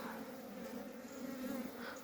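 A dense swarm of bees hums steadily in an apiary around a hive holding a four-year-old queen, a continuous close, moderately loud buzz with no talking.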